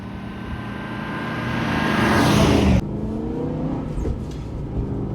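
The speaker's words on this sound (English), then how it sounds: "driving the Aston Martin in the middle of winter, why not?" An Aston Martin car driving on a winter road, its engine revving up and swelling louder over a couple of seconds, then cutting abruptly to a steadier, quieter drone with faint clicks.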